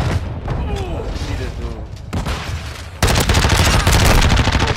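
Gunfire in Call of Duty: MW2 during an MP5 (Lachmann Sub) match. Loud, dense bursts of automatic fire are mixed with game noise, and a sharper, heavier barrage begins partway through. A voice is faintly audible under the shooting.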